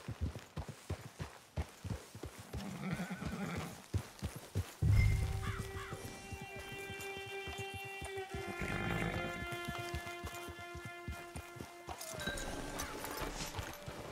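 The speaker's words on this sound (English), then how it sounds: "It's your horse." Hooves clip-clop steadily while a horse whinnies and snorts in the video game Red Dead Online, layered over sustained tonal game music in the background.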